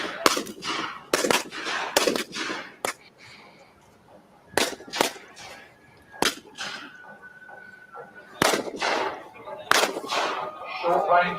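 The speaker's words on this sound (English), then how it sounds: "Short-range carronades are fired into the hull of the ships, causing havoc below decks" Short-range carronade cannons fire in a naval battle video game: sharp, booming shots in irregular bursts, several close together, with quieter gaps between volleys.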